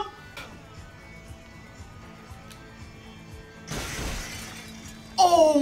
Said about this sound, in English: You can hear a little smash glass behind me.